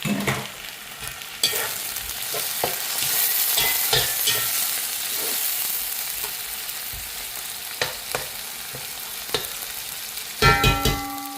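Chopped tomatoes sauté in a hot pan for a non-veg curry, giving a loud steady sizzle broken by scraping stirs and spoon knocks, with a sharper burst of clatter near the end.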